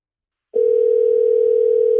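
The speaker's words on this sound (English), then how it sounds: "Oh, it's ringing." Telephone line tone on an outgoing call, a steady, loud single-pitched electronic tone that starts abruptly after a moment of silence and holds unbroken to the end.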